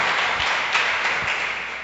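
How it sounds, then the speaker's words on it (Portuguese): Church congregation applauding during a Portuguese-language sermon, a dense, steady wash of clapping from many hands with a few louder individual claps standing out. "dê a Deus a sua melhor salva de palmas"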